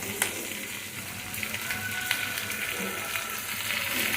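Ingredients frying in a pan for crab curry, a continuous moderate sizzle with occasional stirring taps, close and steady throughout.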